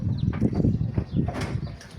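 Pigeons flap their wings in a rooftop pigeon loft, a soft, close flutter of several wing beats in bursts over a low, busy background.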